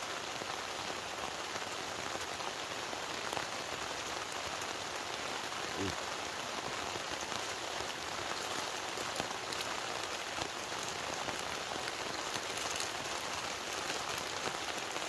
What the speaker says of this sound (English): rain is coming down.